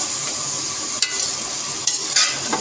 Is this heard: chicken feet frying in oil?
yes